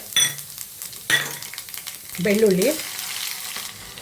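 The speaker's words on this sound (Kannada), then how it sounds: "ಬೆಳ್ಳುಳ್ಳಿ ಸ್ವಲ್ಪ ಚೆನ್ನಾಗಿ ಫ್ರೈ ಆಗಲಿ" Garlic, mustard seeds and cumin fry in hot oil for a tempering, with sharp crackling bursts and a continuous sizzle, plus a couple of clinks from a spoon or pan close by.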